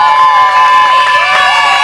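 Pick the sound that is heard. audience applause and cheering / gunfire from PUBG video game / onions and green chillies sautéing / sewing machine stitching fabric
audience applause and cheering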